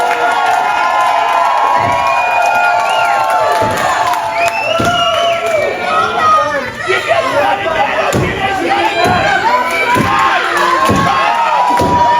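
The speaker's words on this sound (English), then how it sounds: "give all these competitors a big round of applause" At a wrestling main event, an arena crowd cheers, shouts and claps in a loud, continuous roar, with an announcer's voice and scattered thuds over the noise.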